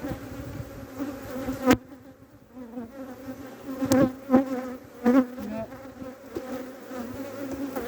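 Honeybees swarm around an open hive in spring, a steady close drone of buzzing wings with individual bees passing near and a few sharp knocks and clicks of hive frames being handled.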